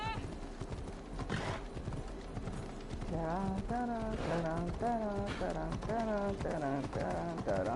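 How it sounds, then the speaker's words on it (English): Hooves clip-clop in a rapid rhythm while a horse whinnies in the video game Assassin's Creed Odyssey, and a voice talks over the galloping. "I have no control over my horse."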